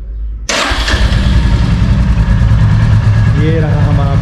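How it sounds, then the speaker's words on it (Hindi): A Royal Enfield Classic 350 Dual Channel Stealth Black motorcycle fires up abruptly after a brief moment of quiet and settles into a loud, steady, thumping idle close to the microphone. "ये रहा हमारा बाइक जो अभी स्टार्ट है इस टाइम"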